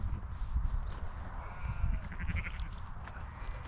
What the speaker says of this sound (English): Black sheep there.